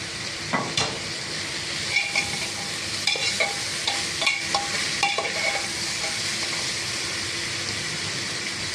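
Onions sauté in a pan for chicken biryani with crushed garlic, green chili and ginger, a steady soft sizzle under intermittent scraping stirs of a spoon, close and continuous.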